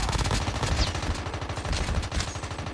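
Rapid bursts of gunfire from COD Mobile crack out in a fast, steady automatic rhythm, loud and close, with repeated shots throughout and no talking.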